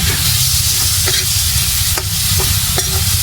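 Liver being stirred and fried in a pan for pancit, with a loud continuous sizzle and several distinct scraping stirs of a utensil against the pan.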